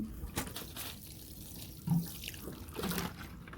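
Water pouring onto a freshly planted aloe in cactus mix, a soft, steady splashing stream close by with a couple of slightly louder gushes and no talk.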